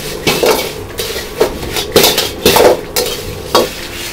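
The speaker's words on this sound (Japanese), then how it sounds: "鍋で、空入りにしていきます" Mala spice powder dry-roasting over low heat in a wok for a Sichuan dish, stirred steadily: close, loud, rhythmic scraping strokes of a utensil against the metal pan, about one every half second, with a light sizzle beneath.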